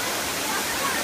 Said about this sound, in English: We hear the waterfall.